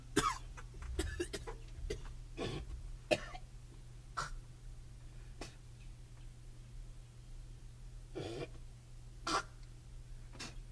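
Several sharp coughs and throat-clearing bursts come in an irregular series, close and fairly loud over a faint steady hum.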